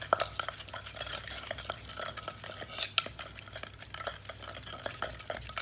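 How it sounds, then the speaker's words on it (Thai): Green papaya salad being mixed with about half a spoon of sugar in a mortar, giving steady close stirring and light clattering scrapes with a few sharper knocks throughout. "แล้วก็คลุกให้เข้ากันนะครับ"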